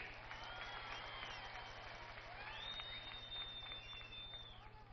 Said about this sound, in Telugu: ఇంకా ఒకసారి గట్టిగా చప్పట్లు కొట్టి అభినందించాలి